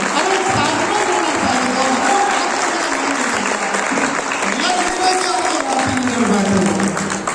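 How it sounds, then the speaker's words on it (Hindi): A training-hall audience at a Safe Shop business session breaks into loud, sustained applause, a thick wall of clapping that holds steady, with a voice calling out over it. "जोरदार ताली के साथ सब बताएं"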